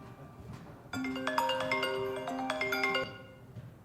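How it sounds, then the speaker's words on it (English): A mobile phone ringtone plays a short melodic tune of bright chiming notes for about two seconds, then stops, against a quiet room. "Whose phone is that?"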